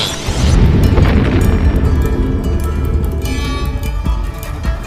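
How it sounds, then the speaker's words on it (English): A deep atomic bomb explosion booms loud and close, a heavy rumbling blast that swells quickly and then rolls on in a long, roaring decay. "The first atomic bomb struck an enemy target."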